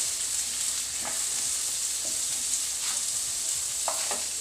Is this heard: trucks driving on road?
no